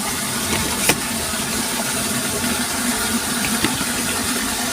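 Water from a deep well, drawn by a 0.75HP submersible pump, pours into a drum in a loud, steady rushing wash, broken only by a couple of faint knocks.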